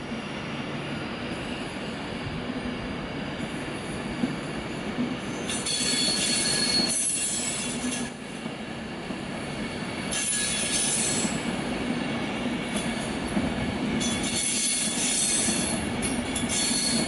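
A passenger train bound for Wolverhampton rumbles past nearby at a station on the line from London Euston, with wheel squeal and steady rolling clatter, swelling and easing as carriages go by.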